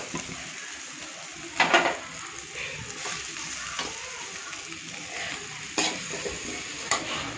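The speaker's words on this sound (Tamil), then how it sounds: "நல்லா எண்ணெய் ஊற்றி நம்ம கிளறிருக்கோம் பாருங்கள்." Boiled potato pieces fried in oil in a pan sizzle softly while a utensil stirs and scrapes, with a few louder clatters against the pan over a steady frying hiss.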